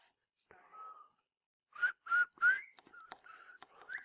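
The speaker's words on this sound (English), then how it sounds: "I'm whistling right now." A person whistles a held note, then a quick run of short, bright, chirpy notes, close and fairly soft.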